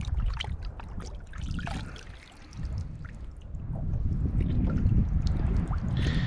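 Coral trout fillets rinsed by hand in seawater, with close splashing and trickling water in irregular bursts, building louder toward the end, no talk.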